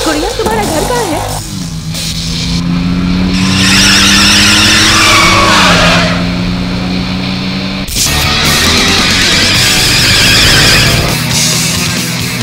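A car roars past at speed, engine droning loud and close, with rushing road noise and a sudden shift partway through.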